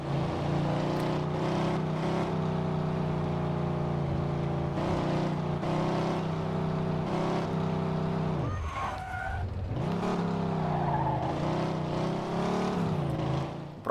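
A car in the Mafia 2 video game drives hard, its engine holding a loud, steady drone through gear changes, with a sudden tire skid and a dip in revs partway through before it picks up speed again.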